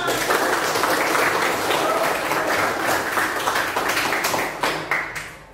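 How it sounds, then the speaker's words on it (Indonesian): Teachers and participants in a classroom training session applaud together, a continuous stretch of mixed clapping that holds steady before thinning out and fading at the end. "Tepuk tangan untuk kita semua."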